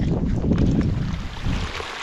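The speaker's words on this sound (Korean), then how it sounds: "어 들린다 물소리" Water rushes and flows near a hot spring in Iceland, a steady broadband wash heard close up, with some wind buffeting the microphone and no talking.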